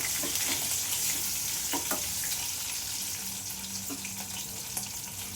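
Chopped green chillies land in a hot pan of oil while aloo paratha filling is cooked, making a steady close sizzle with a few soft clinks and stirring taps throughout.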